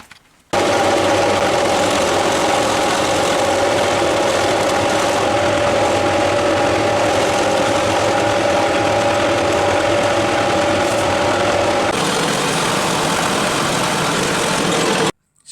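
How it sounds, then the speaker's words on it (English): Metal bandsaw cutting stock for a homemade 6x48 belt grinder, a loud steady whine with a constant hum running unbroken for about eleven seconds before the tone shifts near the end, no voices. "that bandsaw is a really nice cut"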